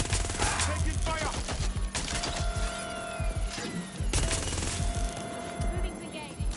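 Bursts of rapid gunfire from a shootout in Watch Dogs Legion, loud, close and crackling, arriving in several volleys with short gaps between them.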